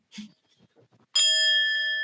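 After a few faint, soft low sounds, a bright metallic gong sound effect rings out loudly and sustains with clear tones that slowly fade.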